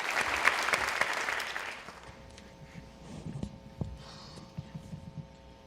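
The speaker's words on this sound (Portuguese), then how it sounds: "Ailton puxa os aplausos e a plateia se junta a ele em peso." An auditorium audience, led by Ailton, gives full applause that fades after about two seconds, leaving scattered individual claps and a few soft thuds in a quieter room.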